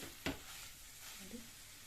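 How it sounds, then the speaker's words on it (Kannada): Vegetables and masala fry in oil for Veg Kolhapuri, giving a steady close sizzle with a brief stirring scrape near the start. "ಈ ರೀತಿ ಒಂಥರ ಶೆಣ್ ಶೆಣ್ಣೆ ಬರುತ್ತಲ್ಲ ಈ ಥರ ನೀವು ಫ್ರೈ ಮಾಡ್ಕೊಳ್ತೀರ"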